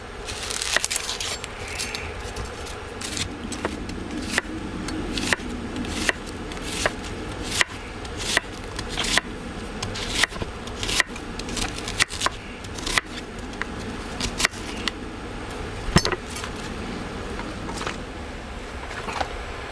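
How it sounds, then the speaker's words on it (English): A kitchen knife finely slices onions for green tomato chutney, producing a close, regular series of sharp cutting taps, roughly one every half second, over a soft background hum with no talking. "Just finely slice the onions."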